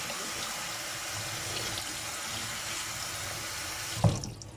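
Cold tap water runs steadily into a kitchen sink while leeks are rinsed under it, a continuous close splashing stream that cuts off abruptly near the end with a brief clunk.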